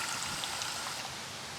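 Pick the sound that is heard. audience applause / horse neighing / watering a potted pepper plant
watering a potted pepper plant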